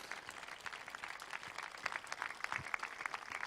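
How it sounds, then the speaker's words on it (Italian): Audience applause at a religious drama staging by a parish church choir in Sicily: steady, faint clapping from a crowd, continuous and even throughout. "E proprio un grande applauso lo voglio fare a Vincenzo Nicolosi"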